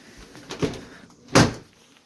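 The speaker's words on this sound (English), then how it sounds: "I gotta shut that door tight." A house door is shut tight, with two separate thuds close by, one softer and one louder and sharper, against a quiet room.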